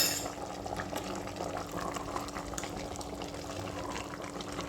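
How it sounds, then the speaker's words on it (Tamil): Chicken sautés in its own released water inside a cooker, giving a continuous dense bubbling and simmering hiss. The sound stays close, even and unbroken throughout. "சிக்கன் வதங்கும் போது தண்ணி விட்டுட்டுருக்குது."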